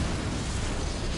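Casting the Incendio fire spell in Hogwarts Legacy unleashes a dense, roaring whoosh of flame, loud and steady throughout the moment, like a sustained burst of fire.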